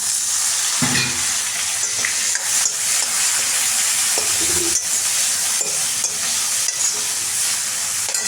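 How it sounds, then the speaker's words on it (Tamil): Onions sauté lightly in a pan for a simple mor kulambu, a continuous close sizzle broken by periodic scraping strokes of a spoon, with no voices. "அப்படியே கொஞ்சம் லைட்டாக வெங்காயம் வதக்கினா சரி"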